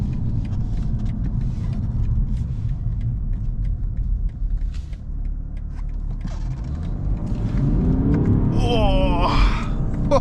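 A 2020 BMW 530d xDrive accelerates hard, its diesel engine heard from inside the cabin as a deep, steady rumble that swells and rises in pitch toward the end, with faint creaks and a brief vocal exclamation near the close.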